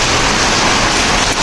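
Heavy rain with hail pours down outdoors, a dense and loud steady roar with no breaks and no voices.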